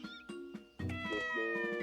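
Cartoonish cat meows from the Miitopia video game, several short mews followed by a longer drawn-out meow, clear and close with a bright, musical tone and no talking.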